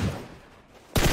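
Gunfire in PUBG on the Miramar map: a quiet, low rumble, then a sudden loud burst of shots near the end.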